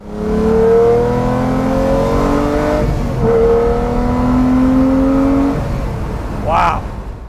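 A Lamborghini engine revs and accelerates hard, climbing through the gears in rising sweeps with brief dips at each shift. The sound is loud and close, and someone talks over it.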